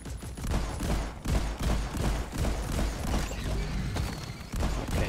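A sentry turret fires in the Deep Rock Galactic video game, a steady rapid stream of gunshots with brief pauses, loud and close over background game noise.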